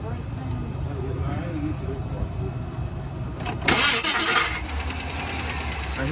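A car with a low battery, hooked to a jumper pack, starts up: a low idle-like hum, then a short burst of cranking noise before the engine settles into a low, steady running drone.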